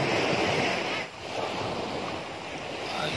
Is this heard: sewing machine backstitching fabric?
no